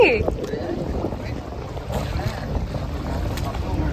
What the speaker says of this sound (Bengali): এখানে ঢেউটা কি বেশি